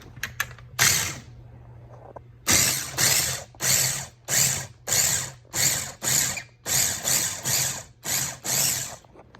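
A food processor grinds rough-chopped cabbage in about a dozen loud, evenly spaced bursts, each a second or so of whirring, close by, with no voices.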